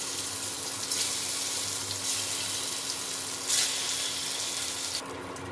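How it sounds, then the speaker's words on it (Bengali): Paneer frying in hot oil in a kadai with a pinch of turmeric, giving a steady broadband hiss and crackle that carries on alone with a couple of brief louder surges. "এই পনিরটা এর মধ্যে তেলের মধ্যে দিয়ে ভেজে নেব।"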